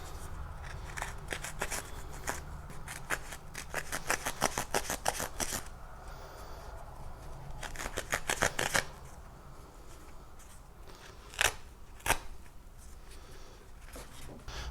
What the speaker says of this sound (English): This hook on these SOG ParaShears didn't cut through this webbing, so I want to try the knife blade here.